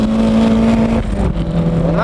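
Drift car steered on the throttle, its engine droning loudly at high revs, dropping pitch then climbing again as the power comes back on, with a faint tire squeal.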